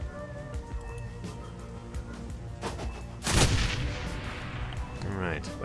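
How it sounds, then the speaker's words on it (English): A frag grenade bursts in the video game Shadowrun: Hong Kong, with a sudden loud boom partway through over soft game music and background ambience, followed by a lingering rumbling tail. "So, frag grenade. Let's toss it."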